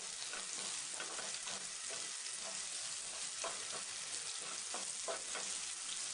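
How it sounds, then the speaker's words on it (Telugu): Potato fry with turmeric sizzles steadily in a pan, with soft scraping stirs at a regular pace close by, and no one speaking. "ఇప్పుడు ఒకసారి బాగా కలుపుకున్న తర్వాత పావు టేబుల్ స్పూన్ పసుపు వేసుకుని కలుపుకోవాలి."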